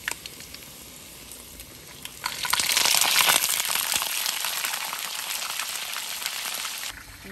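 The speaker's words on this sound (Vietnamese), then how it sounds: "Tép tỏi vô xong giờ em cho cá vô em chiên luôn." Red tilapia going into hot oil over garlic, a quiet crackle suddenly bursting into a loud, dense hissing sizzle that holds steady before easing slightly, close up.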